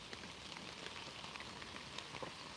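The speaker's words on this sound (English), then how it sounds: "when the wind blows, that's rain coming out of the trees" Rain drips from trees in the wind as a faint, steady patter of scattered drops under a soft wash of outdoor noise, with no voices.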